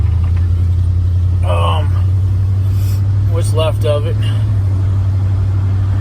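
Steady, loud low rumble of a vehicle cruising down a road, heard from inside the cab, with someone speaking briefly over the engine drone.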